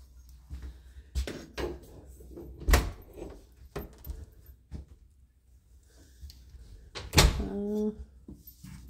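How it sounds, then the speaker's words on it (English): Solid wood doors in a house with a large dining room are opened and shut several times, giving sharp knocks, latch clicks and a creaking swing, close by and spaced irregularly against a quiet room. "see these doors, these are wood doors in this house"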